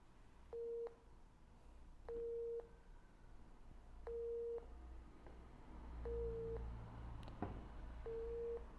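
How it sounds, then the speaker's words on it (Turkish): A 3D underground imaging detector app gives audible beep alerts on signal, five evenly spaced steady tones about two seconds apart, each lasting roughly a third of a second, clear over a quiet background hum. "Ve her sinyal alımında bize uygulama sesli olarak bildirim vermektedir."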